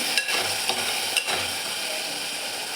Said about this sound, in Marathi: टोमॅटो पण व्यवस्थित परतून घ्यायचा आहे आपल्याला